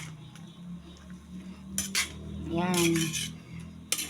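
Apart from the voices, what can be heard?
stirring food in a cooking pot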